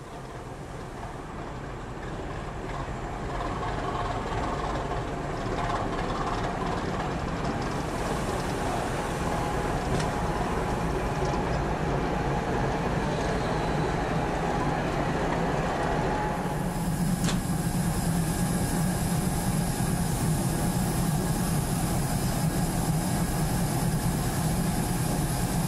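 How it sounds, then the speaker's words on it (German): V65 diesel locomotive powered by a 650 hp six-cylinder marine diesel running at only 750 rpm, a steady low throbbing engine drone that stays loud and continuous throughout, with a shift in tone partway through and no talk. "Ein 650 PS starker Sechszylinder-Schiffsdiesel mit nur 750 Umdrehungen pro Minute sorgt für den Antrieb."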